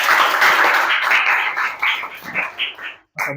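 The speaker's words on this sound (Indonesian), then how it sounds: "beri aplaus dulu yang meriah untuk kelompok 1" A classroom audience gives a lively round of applause for a student presentation group, a dense, close burst of many hands clapping that fades into scattered claps before stopping abruptly.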